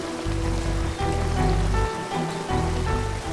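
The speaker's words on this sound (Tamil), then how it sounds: "இந்த அருவி தண்ணி தலையில் அடிக்கிற மாதிரி நல்லா சுகமா இருக்குங்க" Waterfall water pouring and splashing steadily and close up, a continuous rushing wash with no voices.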